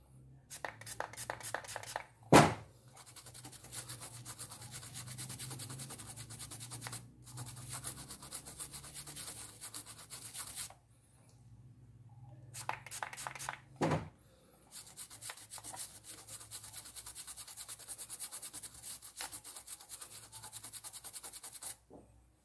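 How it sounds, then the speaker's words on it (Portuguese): Washing machine circuit board scrubbed clean with isopropyl alcohol, a close, steady brushing rub in repeated bursts with brief pauses and a couple of sharp knocks. "Fazer uma limpeza aqui, beleza? Com álcool isopropílico"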